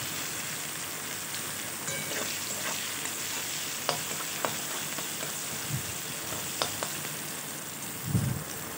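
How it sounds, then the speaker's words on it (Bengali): Chopped onion frying in hot oil makes a soft, continuous sizzle, broken by a few sharp clicks of a spoon against the pan and a brief low thump near the end. "সেই কুচানো পেঁয়াজটা আমি ওর মধ্যে দিয়ে দিচ্ছি।"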